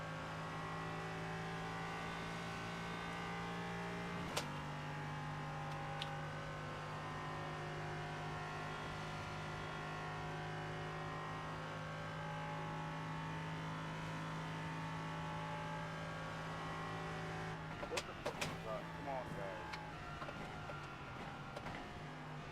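Race cars circling Le Mans in the iRacing sim game, a steady sustained engine drone holding a constant pitch, with a brief sharp shift near the start and a burst of clattery gear changes and revs toward the end.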